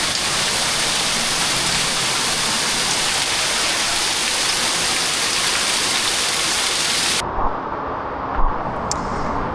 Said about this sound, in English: Got a pretty waterfall on the right side.